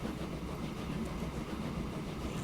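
Heavy freight train rolling along in the video game Transport Fever, a steady dense rumble with faint rhythmic wheel clatter, continuous and moderately loud with no pauses.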